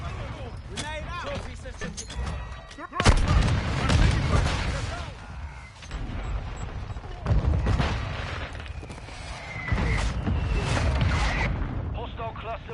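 Call of Duty: Modern Warfare II multiplayer battle with heavy booms from grenades and gunfire, broad thumping blasts at about three, seven and ten seconds over continuous combat noise and voices.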